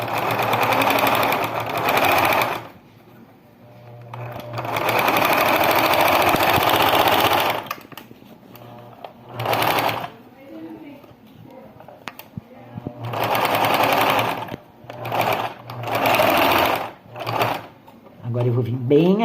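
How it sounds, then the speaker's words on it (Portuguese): A sewing machine stitches a seam on a baby slipper, backstitching at each end, in loud close bursts of rapid whirring separated by short pauses, with a voice speaking between runs. "E eu vou passar a costura, reverso"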